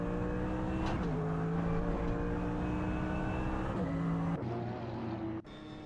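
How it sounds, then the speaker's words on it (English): GT3 racing cars from a racing video game drone along the track with steady, high engine tones that shift pitch at gear changes, loud and continuous, ending in abrupt cuts and a drop in revs. "We're having a blast watching these R-powered racing cars tear up the track."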